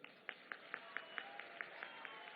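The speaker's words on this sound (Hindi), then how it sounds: "इनके लिए विशेष रूप से तालियां बजाएं।" An audience at a Ramlila laser show staged for a Diwali celebration in Ayodhya claps in a slow, steady rhythm, about a dozen distinct claps, faint and distant.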